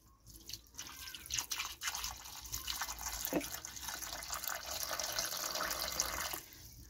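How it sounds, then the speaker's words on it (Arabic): Water runs steadily into a pot of artichokes for a Moroccan tagine, a close splashing stream that builds and holds for several seconds before stopping. "انا غنغطي داك الخرشوف بالماء وغنبدو ان شاء الله يطيب"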